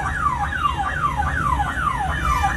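An ambulance siren wails in repeated falling sweeps, about six cycles in quick rhythm, moderately loud over low traffic rumble on a city road in Hyderabad.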